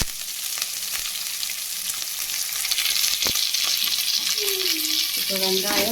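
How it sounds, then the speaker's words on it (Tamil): Mustard seeds and cumin sizzle in hot oil, a steady bright frying hiss with scattered pops, a sharp knock midway and a few faint tonal squeaks near the end, with no one speaking. "இப்போ கடுகு ஜீரகம் சேர்த்தாச்சு"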